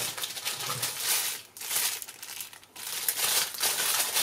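Paper budget envelopes being handled and shuffled, soft crinkling and rustling in short bursts with brief pauses between, close and fairly quiet.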